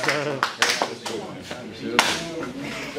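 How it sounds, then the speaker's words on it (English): Scattered, uneven clapping from a small crowd at a rap battle, a few sharp claps in loose rhythm over chatter and voices. "Clap it up, clap it up."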